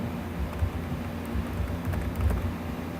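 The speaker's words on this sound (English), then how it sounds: "we're going to type in meandering." Quick, steady keystrokes on a computer keyboard tap out a single word up close, soft clicking over a faint background hum.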